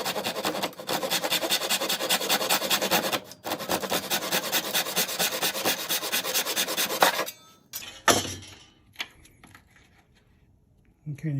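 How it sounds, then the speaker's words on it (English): A pull saw or back saw rasps through wood for a segmented guitar pen blank, close and steady, making rapid back-and-forth strokes for about seven seconds before stopping, followed by a few scattered knocks and handling sounds. "a pull saw or a back saw or whatever you have. That's going to give you a nice thin cut."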